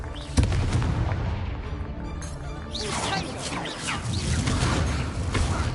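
The Confringo blasting spell goes off in a sharp booming explosion, followed by crashing, whooshing debris and rumbling blasts, with voices and music mixed in underneath.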